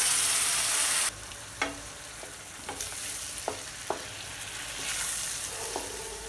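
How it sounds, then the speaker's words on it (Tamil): Ground onion-tomato paste hits a hot pan with a brief loud sizzle, then settles into a quieter simmering fry punctuated by several sharp scrapes and taps of a spoon stirring close by. "இதில் நம்ம அரைச்சி வச்சுருக்கக்கூடிய வெங்காயம் தக்காளி விழுது இதில் சேர்த்துடலாம்"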